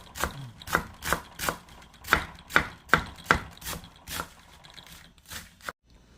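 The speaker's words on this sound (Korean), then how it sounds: "양배추 아주 쓰는 소리가" A knife chops through crisp, freshly harvested cabbage in a steady series of about a dozen crunchy cuts, close and clear, ending abruptly.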